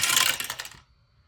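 Two dice tossed together in a budgeting game, a short clattering tumble of dense clicks lasting under a second before settling into quiet, close and fairly loud.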